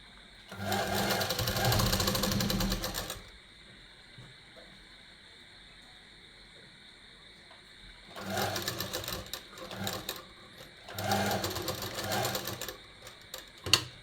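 Sewing machine stitching a men's kurta pajama, running in three steady rapid-stitch bursts close by, with quieter pauses between.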